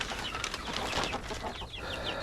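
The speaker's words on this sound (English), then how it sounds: "That's the little chickens." Young chickens clucking and peeping outdoors near a pond on a five-acre property, a busy jumble of small bird calls at moderate distance with no one talking.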